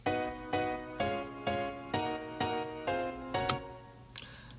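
A soft, mellow third piano layer in a pre-chorus production plays repeated chord stabs, about eight evenly spaced hits with ringing tails, before fading into a brief quieter ending.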